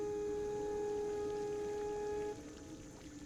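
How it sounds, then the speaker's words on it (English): Running river water played as nature ambience for a tabletop fantasy game, a steady rushing wash with a few tonal hums over it, dropping quieter partway through. "I'm going to also see if I can get some water sound in here."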